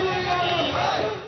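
All Pakistan Clerks Association workers chant slogans against the government at a street rally, a short, loud burst of massed crowd voices shouting together.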